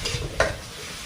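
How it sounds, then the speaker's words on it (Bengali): Spices fry in a pan, a short close sizzle with a quick stirring scrape partway through, brief and without voices. "এবার এই মশলাগুলো সব আমি ভেজে নেব"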